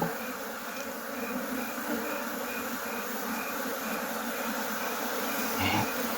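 Honey bees drone steadily at an open hive in Nigeria during a colony inspection, a dense, continuous buzz with a faint extra rise near the end.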